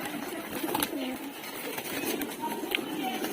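Pigeons gathered at a pigeon trader's, with a steady murmur of cooing and bird calls close by while someone talks over them.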